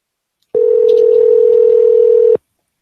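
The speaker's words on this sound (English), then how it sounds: "Do you guys hear me dialing?" A single steady telephone tone during a call to a phone line sounds loud and clear for about two seconds, then cuts off abruptly, with silence on either side.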